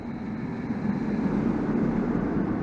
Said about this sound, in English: Here comes the testing train, and off she goes.